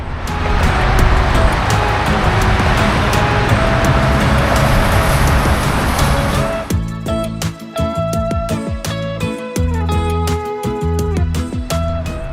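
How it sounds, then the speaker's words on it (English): A steady broad roar of distant freeway traffic fills the first half, loud and continuous, then gives way to music with a beat and tonal lines over a softer rumble. "I can hear the freeway."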